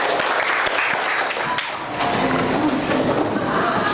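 Classroom applause from students in a sociology lesson, a dense, steady patter of many hands clapping close by for about four seconds with a few louder claps standing out.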